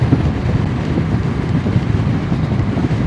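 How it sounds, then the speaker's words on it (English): Wind buffeting a motorcycle rider's heated gloves and microphone at speed, a loud continuous low roar with rumbling gusts and no talking. "Got up a little more speed, a little more wind on the gloves."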